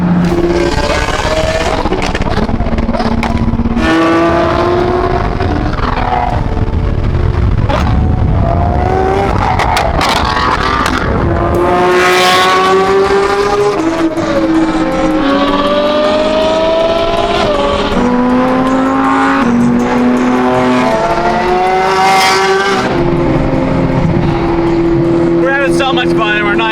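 Ferrari engine revving hard and accelerating through rising and falling gear pulls, loud and close from inside the car, with a voice speaking over it.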